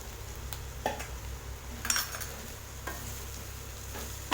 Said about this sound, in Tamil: நல்லா இந்த வெங்காயத்தோடு மிக்ஸ் பண்ணி விட்டுடலாம்